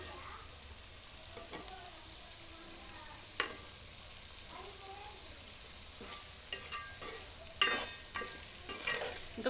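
Food being stirred and mixed in a frying pan, a faint steady sizzle with occasional soft scrapes and a few light clinks of the utensil.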